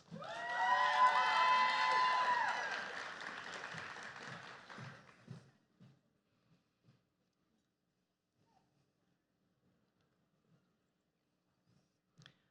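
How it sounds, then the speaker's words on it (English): Graduation ceremony crowd cheering and whooping with applause, a loud burst of high shouting voices for several seconds that dies away, followed by near silence with a few scattered taps and thumps. "Please join me in a round of applause for this set of graduates."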